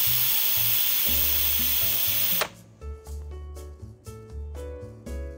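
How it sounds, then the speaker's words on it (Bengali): An Instant Pot vents its pressure after cooking mutton haleem, letting out a loud, steady, close hiss of escaping steam over background music, which then cuts off abruptly so the music continues alone. "30 মিনিটস পর প্রেসার রিলিজ করে দিচ্ছি।"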